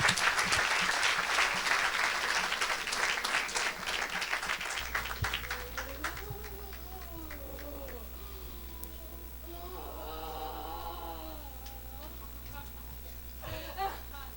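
A church congregation applauds loudly for about five seconds, a dense burst of clapping that then gives way to quieter murmuring, a low hum and scattered voices.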